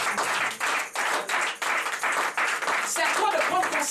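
A church congregation at a Sunday service claps and cheers in a loud, continuous wash of applause with rhythmic clapping, while voices shout over it.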